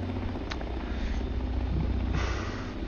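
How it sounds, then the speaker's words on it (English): A Shergood CH-47 helicopter in Second Life flies at about 100 knots and 500 feet, giving a steady, loud rotor and engine drone throughout. "Alright, so you can see the helicopter is coming back on to the course here."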